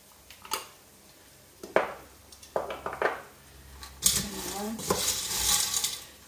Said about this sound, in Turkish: Karıştıra karıştıra biraz kavuracağım.